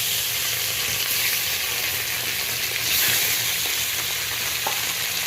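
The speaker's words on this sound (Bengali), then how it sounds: "এবার আমি মাছগুলো তুলে দেবো।" Tarai fish pieces fry in smoking-hot oil in a wok, giving a loud, steady, close-up sizzle that carries on without a break.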